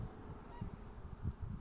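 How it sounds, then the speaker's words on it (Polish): Geese or ducks on wetland water honk and quack in a short burst of several calls, faint and somewhat distant over a windy outdoor background. "Kwaczą czy co tam."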